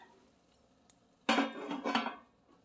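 A lid set onto a pan while cooking a salmon omelette: a faint tap, then a sharp metallic clatter followed by about a second of rattling scrapes as the lid settles.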